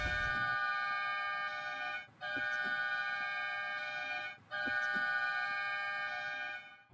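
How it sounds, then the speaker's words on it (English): An all-clear lightning alarm at a youth sports event in Fort Lauderdale sounds as three long, loud, steady electronic horn blasts with brief gaps between them. "if it's clear, the alarm will sound like this"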